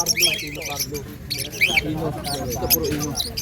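Lovebirds squawk and chirp in sharp, scattered bursts at a bird sale in Obando, Bulacan, mixed under a person talking nearby.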